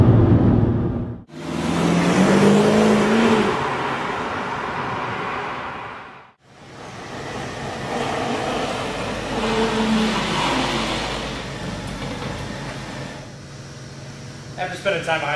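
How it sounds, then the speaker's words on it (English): A BMW 550i V8 engine revs up hard twice, each surge rising in pitch before a brief drop as gears change, loud and close with wind noise. "The torque right across the rev range is really, really strong in this V8"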